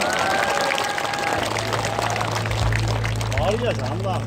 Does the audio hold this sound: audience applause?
yes